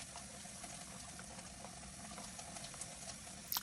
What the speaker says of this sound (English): Listen to the sound of these sausages frying.